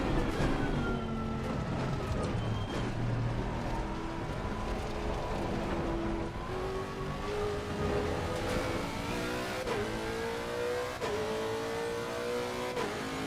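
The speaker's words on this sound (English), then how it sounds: "the sound of this car is awesome, and I'm very excited about the idea of driving that for 2 hours" A race car engine in the Le Mans Ultimate sim racing game revs and climbs through the gears with rising, shifting whine, loud and continuous throughout with no talk over it.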